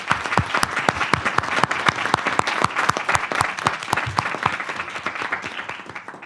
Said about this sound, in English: Just a round of applause for their panelists